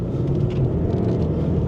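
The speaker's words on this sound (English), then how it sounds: "Wheel spin in third." VW Golf GTD with 120,000 miles spinning its wheels in third gear from 30 mph, a dense low engine and road rumble heard steadily from inside the car.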